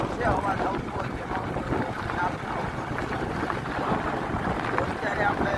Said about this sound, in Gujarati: પવન બહુ છે, અવાજ આવતો હોય કે